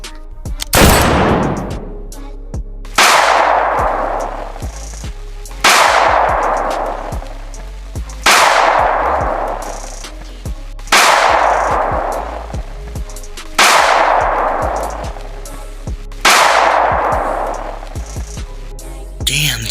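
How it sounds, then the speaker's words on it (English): Loud gunshots or heavy blasts at a backyard gun range behind a house, about seven evenly spaced reports roughly every 2.7 seconds, each a sharp crack trailing into a long decaying rumble, with no talking. "As she lines them up and she starts blasting."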